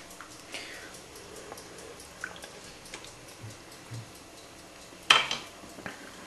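A cooking pot and utensils handled in a kitchen in Sicily while pasta is checked, with faint scattered clinks and taps, then one sharper metallic clatter, over a quiet background.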